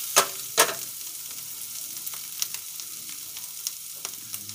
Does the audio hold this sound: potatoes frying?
yes